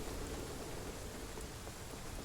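Soft, steady rain hisses continuously at a landfill in the video game Cyberpunk 2077, an even wash of falling drops with no voices or other sounds over it.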